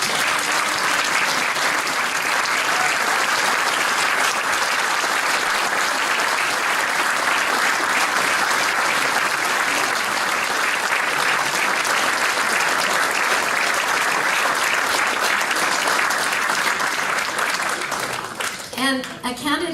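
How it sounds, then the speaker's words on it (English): Long, loud, sustained applause from a crowd at a BC Green Party celebration as its candidates stand, a dense continuous roar of clapping that fades out at the end. "I'd like all of our candidates to stand up and for all of you to give them a round of applause."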